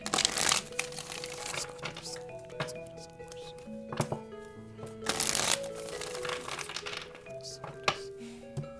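Tarot cards are shuffled by hand in a close, crisp riffling and flicking, with short papery bursts and soft taps between the shuffles. No one speaks.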